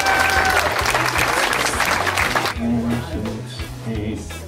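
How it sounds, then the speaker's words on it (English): An audience applauds at a radio station's White Camry Christmas car giveaway event, a dense, loud burst of clapping that fades after a couple of seconds, with someone speaking over it. "Give him a round of applause."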